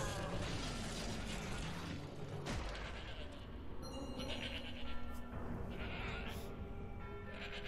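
Goat bleats from the video game Shadows of the Damned ring out in a few drawn, wavering cries over a busy, steady bed of game ambience and clanking effects.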